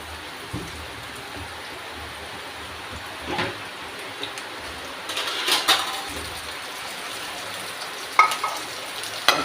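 Shallots fry in hot oil with green chillies and curry leaves, giving a low, steady sizzle with occasional stirring scrapes. The crackles grow louder and busier in the second half, and nobody speaks.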